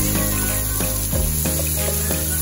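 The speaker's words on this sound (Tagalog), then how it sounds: "Gisa rin natin yung matagal guys yung ating sibuyas" Plenty of onions sautéing in a pan for batchoy Tagalog, a loud steady sizzle with a few stirring scrapes breaking through the dense hiss.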